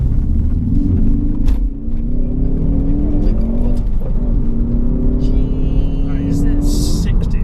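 A Ford Focus ST engine revs hard and climbs steadily in pitch as it accelerates to 60 in second gear, loud and close, with a shift near the middle and voices over it.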